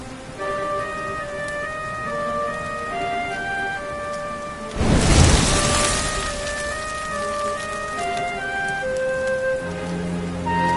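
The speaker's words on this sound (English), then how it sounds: "Looks like the rain's dying down." Steady rain falls in the Dragon Quest XI video game, a soft continuous patter under gentle game music, with a brief louder rushing swell partway through before it settles back.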